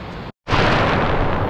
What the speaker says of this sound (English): Pouring down rain and thunder all around.